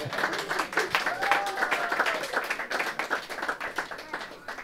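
An audience applauds during a speech, with dense, sustained clapping that is fairly loud and fills the room.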